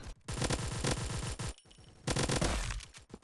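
Rapid automatic gunfire in a mobile shooter game, with a dense stream of close, loud shots, a short pause, then another long burst firing nonstop.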